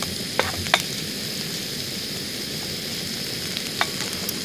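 Trout and wild mushrooms fry in a pan at a camp during a solo wilderness trek in Finnmark, giving a close, steady sizzle with a few sharp crackles and pops and no voices.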